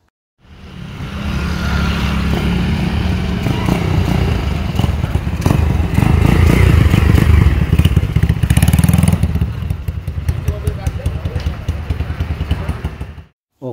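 Motorcycle fitted with a thin, unbranded slip-on exhaust, revving loudly up close for about twelve seconds with rising and falling throttle blips before cutting off.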